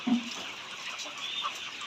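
Layer chickens on a poultry farm cluck faintly under a steady hiss of background noise, with one brief low cluck near the start.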